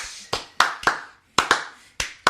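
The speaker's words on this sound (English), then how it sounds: "Can we get a slow clap, please?" A slow clap from a few hands in a small room: sharp, loud, separate claps at an uneven, unhurried pace, about eight in all.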